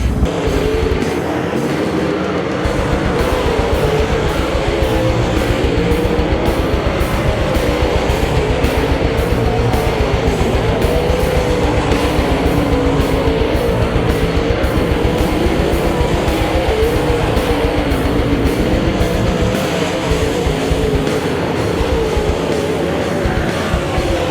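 Dirt-track race cars at Volusia Speedway in Barberville, Florida roar continuously as a loud, dense engine drone with a rough, rumbling texture that holds steady throughout.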